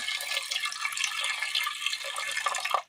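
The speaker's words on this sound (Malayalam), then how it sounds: "ചേനയിലേക്ക് അല്പം വെള്ളം ഒഴിച്ചു കൊടുക്കാം." Water pours steadily from a vessel onto chopped elephant foot yam in a pressure cooker, a close splashing trickle lasting a few seconds before stopping abruptly.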